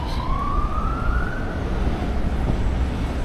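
An ambulance siren rises in a single wail over heavy traffic rumble on Paseo Marítimo in Palma de Mallorca, fairly distant and fading as it passes.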